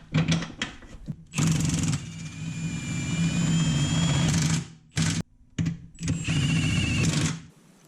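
Loud pneumatic impact gun hammering a 17 mm rear subframe bolt on a Honda S2000 with a JDM F20C engine, in two long rattling bursts with short blips between, close and harsh.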